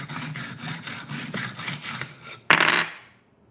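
A jaw harp's back is rubbed back and forth on a diamond sharpening plate to true it. About a dozen quick, rhythmic scraping strokes are heard up close, then one louder final rasp before silence.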